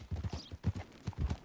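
A horse's hooves clip-clop in a video game, as the rider brings it up to a hitching spot, giving a quick, uneven run of close, soft thuds that stays moderately quiet.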